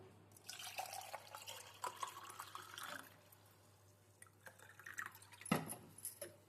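Water trickles and splashes into a glass for a summer juice in short, faint bursts, with small clinks and drips between pours.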